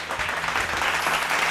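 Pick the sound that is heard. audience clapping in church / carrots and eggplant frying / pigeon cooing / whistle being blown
audience clapping in church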